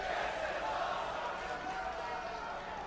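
Wrestling arena crowd during a ladder match, a steady loud roar of cheering and shouting that fills the whole clip without a break.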